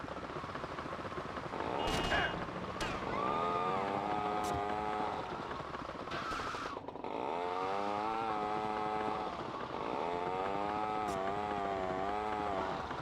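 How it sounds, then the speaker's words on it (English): A revving vehicle engine in Grand Theft Auto Vice City, buzzy and whiny like a small two-stroke, rises and falls through several throttle swells with brief cuts, with faint voices in the background. "Listen to this engine,"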